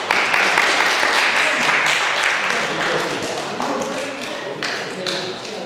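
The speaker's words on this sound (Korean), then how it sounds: "박수 한번 주세요." An audience at a youth foundation forum breaks into applause, dense clapping that starts strong and gradually thins toward the end, with a few sharper claps standing out.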